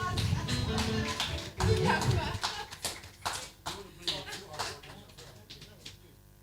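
An audience applauds in scattered bursts of claps that thin out and fade away, with talk heard around them.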